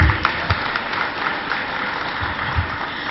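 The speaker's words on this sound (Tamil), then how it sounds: "அவருக்கு ஒரு கைத்தட்டல் கிடைக்குமா?" An audience at an astrology conference in a hall claps together in a sustained burst of applause lasting about three seconds, fairly loud and steady with a few sharper claps near the start.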